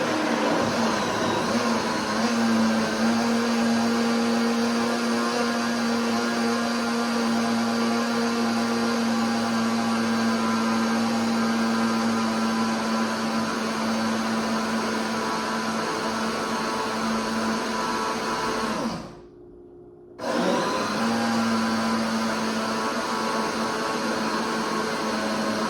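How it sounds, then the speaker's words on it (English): A blender whirs steadily while mixing a protein shake, a loud continuous motor drone with a steady hum, briefly dropping out for a moment near the end before resuming, with no talking. "And then we're gonna blend it up."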